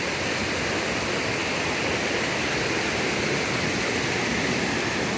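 Dhupapani waterfall in Rangamati, swollen after overnight rain, roars as a steady, dense wash of rushing water that stays close and loud throughout, with no voices.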